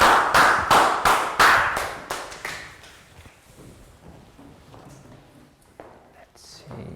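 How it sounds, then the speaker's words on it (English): Schoolchildren clapping together in a Year 3 classroom, a quick burst of loud claps in the first three seconds that thins out to scattered taps and classroom murmur. "Big round of applause,"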